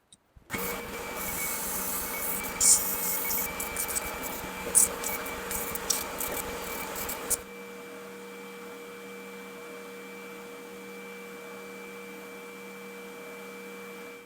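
A power sander shapes wood for a turkey box call, a steady whirring grind with scratchy bursts for several seconds before it stops, leaving a faint hum.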